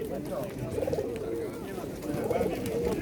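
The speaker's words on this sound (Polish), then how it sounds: "ponownie witam na Radomskim Targu Gołębi przy ulicy Lubelskiej 65" Pigeons at an outdoor pigeon market, giving low, repeated cooing against a steady murmur of crowd noise and voices.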